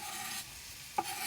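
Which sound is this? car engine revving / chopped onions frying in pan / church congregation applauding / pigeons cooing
chopped onions frying in pan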